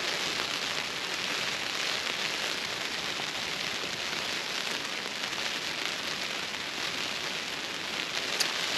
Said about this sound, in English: there's quite a lot of rain coming in just now